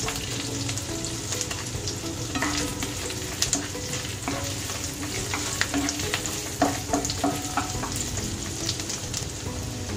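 Garlic and long strips of ginger sizzle loudly in hot oil in a pan while cooking chicken chilli, a steady crackling fry with occasional utensil scrapes and stirring clatter, close and with no talking.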